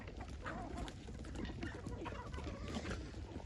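Free-range local chickens on a small farm cluck and call softly at close range, a busy continuous chatter of hens over steady low background noise, with faint voices mixed in.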